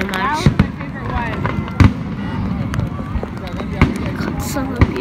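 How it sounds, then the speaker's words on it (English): Canada Day fireworks at Niagara Falls pop and crackle at a distance in the rain, with several sharp bangs scattered over a steady crowd murmur and nearby talk. "What a bad firework."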